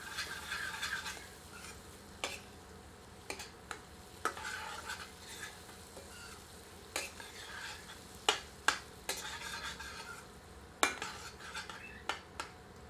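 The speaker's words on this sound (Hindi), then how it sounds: "एक बार अच्छी तरह करछी चलाते हैं।" A ladle stirs cooked-down tomato masala for chicken keema kaleji in a pot over low heat: sporadic sharp metal clinks and scrapes over a soft, faint sizzle.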